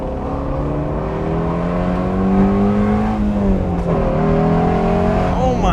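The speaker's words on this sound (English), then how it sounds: "Let's see if we can rev match downshift." A car engine revving during a rev-match downshift, a loud, close, sustained tone that climbs and dips in pitch as the revs rise and fall.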